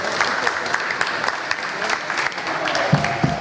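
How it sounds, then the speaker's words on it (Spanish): Applause from a gathered audience at a Spanish-language meeting, a full, steady round of clapping at moderate volume, with a few louder claps toward the end and faint voices beneath. "le damos un aplauso a don Roberto."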